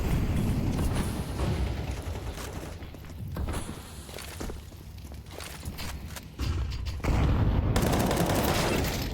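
A gun spray in a Counter-Strike 2 esports match sounds as bursts of rapid automatic fire trading back and forth, with footsteps and mechanical game noises between volleys and louder shots near the end.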